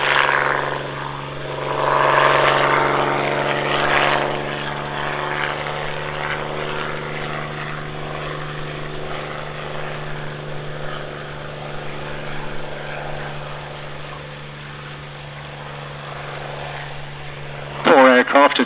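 A Bell 47 helicopter flies a display at the East Kirkby Airshow, its steady rotor and piston engine drone humming at a distance throughout while a commentator talks over a public address system.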